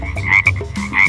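Frogs croaking at a small pond, a few loud, close, raspy croaks in quick irregular succession with no voices.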